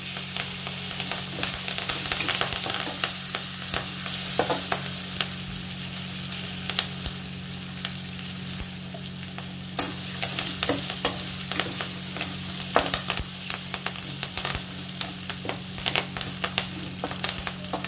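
Green chillies and curry leaves frying in a pan, a steady close sizzle with intermittent scraping stirs and a low hum underneath, no voices.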